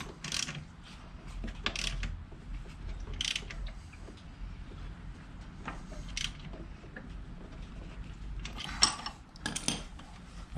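Ratchet wrench tightening the rear set bolts on a Honda Ruckus scooter, heard as several short bursts of clicking with pauses between them, close by and fairly quiet over a low background hum, with no talking.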